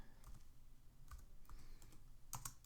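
Fingers type a short word on a computer keyboard, a handful of light, crisp key clicks spaced irregularly, faint and close in a quiet room.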